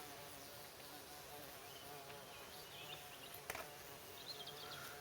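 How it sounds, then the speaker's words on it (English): A bee buzzing indoors inside a cottage in a garden setting in Ireland, a faint steady drone under a constant quiet hiss, with one brief knock partway through. "which will help the bee to find its way out."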